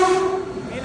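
A local train sounds a steady tonal horn as it arrives at Dombivli railway station, loud and close, lasting under a second.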